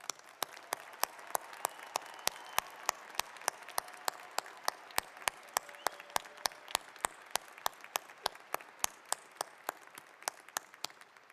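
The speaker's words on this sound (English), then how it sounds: "Please join me in a round of applause for these students." A commencement audience at the University of Idaho spring ceremony applauds graduating students, steady hall-wide clapping with sharp distinct claps punctuating a soft, even wash, lasting over ten seconds without a break.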